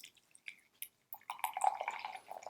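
Brewed Japanese black tea is poured out, first in faint scattered drips and then in a soft, continuous trickle of liquid that gurgles quietly at close range.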